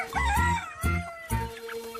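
Chickens cluck at a chicken coop, three close, loud clucking calls in quick succession with faint crowing-like tones between them.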